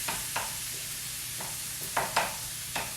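Garlic sizzles in a hot pan, a steady crackling hiss broken by a few scraping stirs at irregular intervals, close and moderately loud with no talk.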